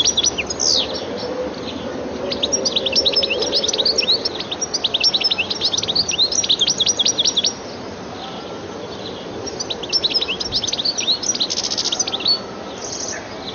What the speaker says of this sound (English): The goldfinch's looks, as well as its attractive calls and more elaborate song, make it a welcome visitor to gardens.